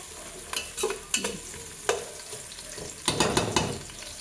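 Onions fry in a hot pan for a Filipino pinapaitan dish, with a bright crackling sizzle and repeated clattering scrapes of a spatula stirring them, loud and close.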